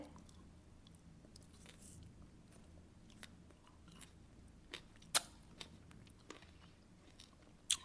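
Homegrown grapes are bitten and chewed up close, with soft, squishy, wet chewing and a few sharp bite clicks scattered over a quiet background.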